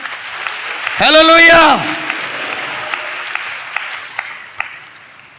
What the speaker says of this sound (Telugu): వడదాం చప్పట్లు గట్టిగా